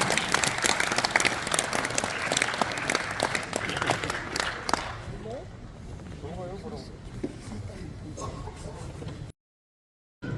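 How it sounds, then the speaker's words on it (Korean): An audience at a book and talk concert claps for former prime minister Hwang Kyo-ahn, loud dense applause that fades after a few seconds into crowd murmur and voices, then a brief silence. "모두 황교안 전 총리께 큰 박수 부탁드립니다."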